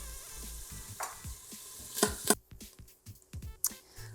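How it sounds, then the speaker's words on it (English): Bacon frying in an Instant Pot, a soft sizzle broken by utensil scrapes and a few sharp clacks, fairly quiet with no talk. "now we just need to wait for our bacon to be finished."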